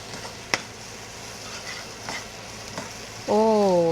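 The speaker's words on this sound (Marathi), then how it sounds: "डाळ पण पटकन फोडणीला घालून घेते" Lentils sizzle steadily in hot tempering oil with a sharp clink early on and soft stirring scrapes, before a voice begins speaking at the end.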